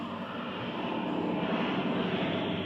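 An aircraft flies overhead, heard as a steady, broad engine roar that stays fairly distant and even throughout, with no talking.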